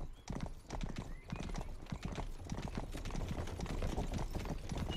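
Hooves clip-clop in a quick, steady rhythm close by in a video game, with a brief horse whinny in the mix.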